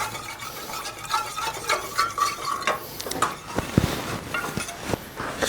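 Scraping and clinking of a utensil stirring sauce in a pot to thin it, with irregular knocks and a soft sizzle underneath, close by.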